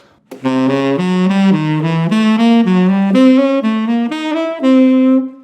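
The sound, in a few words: guitar playing diminished arpeggio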